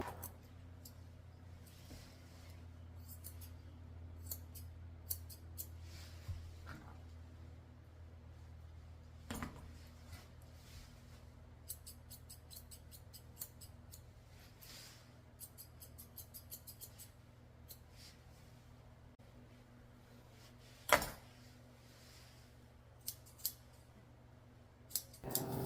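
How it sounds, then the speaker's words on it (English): Curved grooming scissors snip the ear hair of a senior toy poodle during a short haircut, a scatter of light, close metallic clicks over steady low room hum, with one louder clack near the end. "I'm taking my curved scissors and trimming up the bottoms of her ears and making them nice and round."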